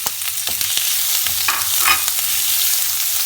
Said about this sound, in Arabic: بعد ما غادي نشحروا البصله